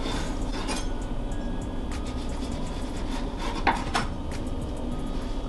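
A knife works through orange cake ingredients on a wooden board, giving soft scattered taps and scraping rubs over a steady kitchen background, with no talking.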